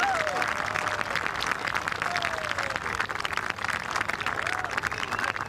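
Golf gallery at Royal Troon during the final round of the Open Championship applauding a putt, sustained clapping and crowd noise filling the whole stretch, with a few faint whistles over the top.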